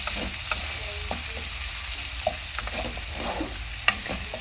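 Onions being stirred in a hot pan while a small-fish curry with green tomato cooks, giving a steady soft sizzle broken by a few sharp scrapes and knocks of the utensil at irregular moments.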